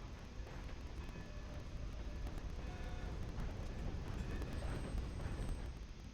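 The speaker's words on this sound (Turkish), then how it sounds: "Şu anda trenimiz kalkıyor." A train pulling away in the video game Red Dead Redemption 2, a faint, steady low rumble and rolling rail noise with a thin high tone near the end, no talk over it.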